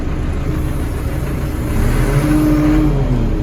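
A Scout TB-904C tractor engine running close by with a steady diesel rumble that swells louder partway through as it revs, with no speech over it.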